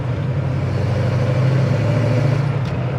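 A 1969 Chevelle's V8 engine is being driven gently: a steady, low rumbling drone with an even, continuous tone throughout and no talk over it.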